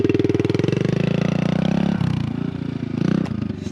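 A dirt bike engine runs steadily close by, a dense throbbing drone with a brief dip and surge partway through, alone without talk.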